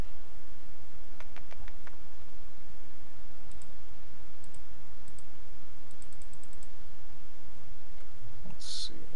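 Sharp mouse clicks during a Minecraft building session, coming in small rapid clusters of two or three against a steady background hiss, crisp and close, with no voices.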